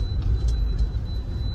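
A brand-new car on the road, a steady low engine and road rumble with a faint high whine, heard from inside, continuous and moderately loud with no talk.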